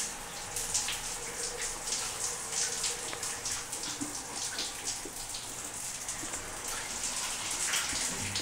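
A shower runs steadily, its spray pattering and splashing in a continuous hiss with small irregular drops, moderately close, with no speech.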